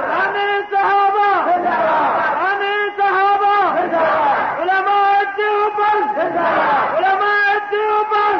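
A large religious gathering chants takbir in unison, loud rhythmic waves of many voices rising and falling in repeated cries that fill the space.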